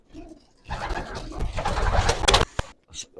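A female pigeon at a pigeon auction gives coos mixed with close rustling bursts, a dense noisy stretch in the middle and then a few brief calls, with no talking.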